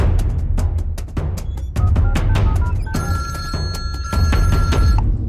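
A telephone bell rings loudly in repeated bursts, followed by a steady electronic ringtone tone, with no talking over it.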